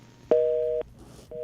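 A telephone line drops during a call-in radio show, leaving a loud busy-signal tone that sounds in two clipped pulses, the first about half a second long, with a faint line hiss between them.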